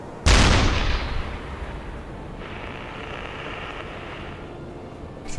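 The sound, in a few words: deck gun firing in UBOAT video game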